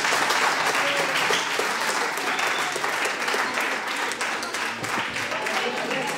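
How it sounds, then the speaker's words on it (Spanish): Audience applause for a boy at a village reading event, dense continuous clapping from a crowd throughout, loud and close. "pido un aplauso para él porque me ha ayudado mucho"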